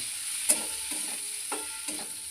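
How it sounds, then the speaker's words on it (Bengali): Oats frying in ghee for a payesh, a soft, fairly quiet sizzle with a few spaced scrapes and light clinks of stirring, close by and without talk. "এবারে এর মধ্যে একটু ওটটা দিয়ে একটু ভেজে নেব এটাকে একটু ঘিয়ের মধ্যে ভেজে নেব"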